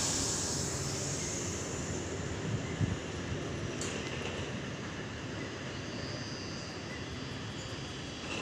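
A Sydney suburban train pulls away from platform 3 toward Central, a continuous broadband rumble and hiss of wheels and motors that slowly fades, with a faint high squeal partway and no talk.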